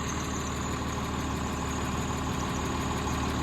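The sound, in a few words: tractor engine idling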